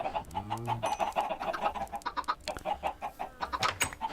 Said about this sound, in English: I got plenty of chickens.